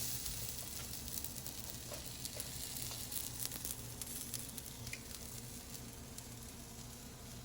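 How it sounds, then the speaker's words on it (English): A homemade vegan burger patty, grillable and made without soy or beans, sizzles steadily in a hot pan, a constant faint frying hiss that holds level throughout with no one talking. "And then you're going to put it on a pan, a hot pan to grill on both sides."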